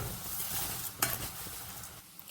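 Cornflakes frying in a little oil while being stirred in a pan, a low steady sizzle with scraping stir sounds and one sharp utensil knock midway, close and alone.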